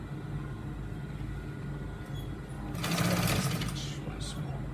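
A sewing machine stitches trouser fabric with a steady mechanical whir that swells louder for about a second mid-clip, with a faint voice in the background.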